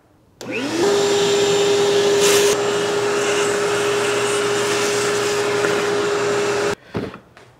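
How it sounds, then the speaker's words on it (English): A shop vacuum cleans out the cabin filter box of a Maserati Ghibli, starting up and running steadily at close range with a constant whine, then cutting off, followed by a few clunks. "I'm going to use my shop vac and just vacuum it out"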